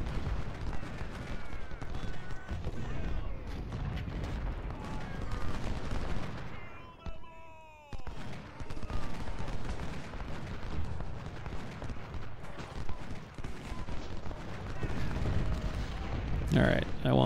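Musket volleys in the Ultimate General: Civil War video game at Crampton's Gap, heard as rolling, crackling gunfire and booming artillery that runs nearly unbroken, with a brief lull midway and a sharp burst near the end, under talk.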